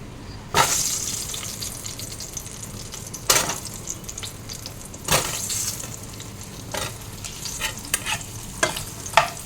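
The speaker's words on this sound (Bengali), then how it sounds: "এখন পটলটা যে কড়াইয়ে তেলও দিয়ে দিয়েছি। এবার পটলটা এখন ভেজে নেব।" Pointed gourd slices frying in oil with turmeric and salt in a wok, a continuous close sizzle broken by several sharp scraping stirs and clatters of a spatula against the pan, with no talk.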